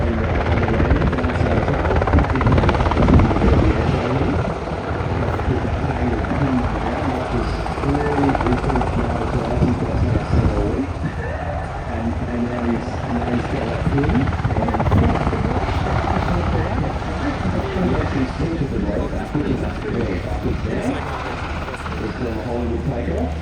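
An MH-60R Seahawk helicopter flying a solo handling display at an air show, its rotor thump and turbine roar loud and steady throughout, with people talking over it.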